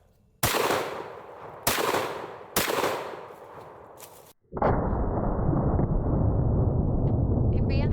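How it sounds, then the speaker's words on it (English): Three sharp, loud gunshots from a multi-barrel gun that cycles to the next barrel with each trigger pull, evenly spaced about a second apart, followed by a sustained roaring burst that runs to the end. "Every time you pull the trigger, it cycles to the next barrel."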